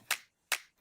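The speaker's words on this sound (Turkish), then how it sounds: "Sana alkış yok anca finger snap" Two crisp finger snaps about half a second apart, close and dry during a casual concert rehearsal, with quiet gaps between them.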